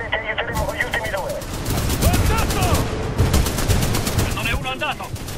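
Cannon gunfire in the video game Titanfall 2 rattles off in rapid, loud bursts that run almost continuously, with voices talking over the shooting.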